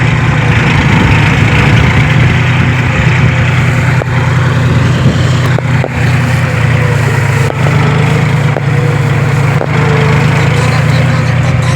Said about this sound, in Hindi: ये देख सकते हो अपना ट्रैक्टर पूरा चल रहा है पूरा।